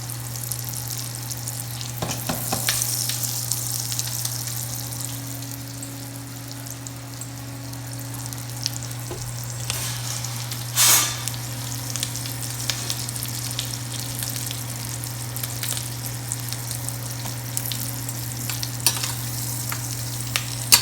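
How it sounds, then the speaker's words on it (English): Bread soaks and fries in melted fat in a pan while cooking soft scrambled eggs, a soft continuous sizzle with occasional crackles and a faint steady hum beneath, no talking. "once it's melted, I'm just going to soak my bread in it a little bit."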